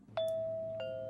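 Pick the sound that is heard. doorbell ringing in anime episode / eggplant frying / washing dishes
doorbell ringing in anime episode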